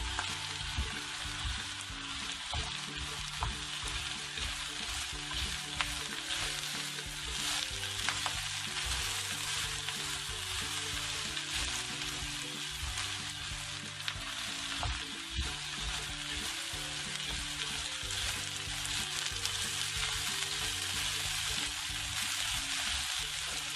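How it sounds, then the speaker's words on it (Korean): Jjajang sauce with potatoes is stir-fried in a pan, giving a constant, dense sizzle and crackle throughout, close and fairly loud, with no talking. "자 일단 여기서 더 볶아주세요"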